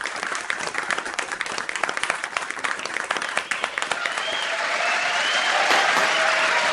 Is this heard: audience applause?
yes